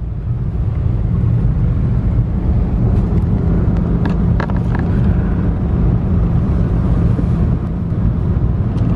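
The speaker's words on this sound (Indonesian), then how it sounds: "di samping-samping saya ini juga macet semua." Congested traffic on an Indonesian road in the days before Lebaran: a loud, steady low rumble of idling and creeping engines with road noise throughout, plus a few faint higher clicks partway through.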